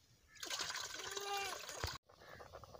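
Rice being washed in water: a close, steady trickle and splashing swirl for about a second and a half stops abruptly, followed by quieter kitchen background.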